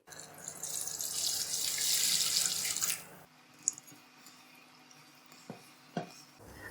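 Water poured steadily into cornflour in a bowl while making falooda, a bright splashing stream for about three seconds that then stops, followed by a few soft clinks and drips.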